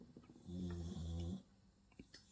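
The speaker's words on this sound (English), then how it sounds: "my faithful staffy companion's snoring like a good'un" A Staffordshire bull terrier snores close by indoors, giving one long, steady, rumbling snore that swells and then fades, with quiet room sound before and after.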